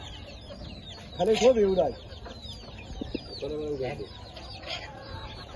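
Chickens clucking on a farm flock of about 70 to 80 hens, bursts of nearby clucks and short calls over a quiet background, with a voice speaking briefly.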